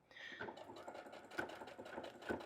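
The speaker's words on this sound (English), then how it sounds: "Just sewing as close to that edge as I can." A sewing machine top-stitching close to the edge of a dish mat being made into a crossbody bag, its rapid needle whir running steadily with a few short louder pulses.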